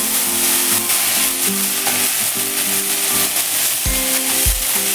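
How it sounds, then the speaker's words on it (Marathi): Loud, continuous sizzle of ridge gourd pieces frying in a wok, with occasional clanks and stirring scrapes, heard up close with no speech. "आता आपण या दोडक्याच्या फोडी आहेत त्या देखील याच कढईमध्ये घालून घेऊया"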